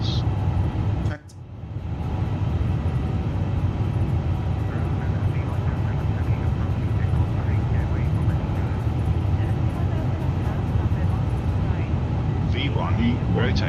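Airbus A350 engines at takeoff thrust in Microsoft Flight Simulator 2024, a steady loud roar holding constant after a brief dip, with faint cockpit callouts near the end.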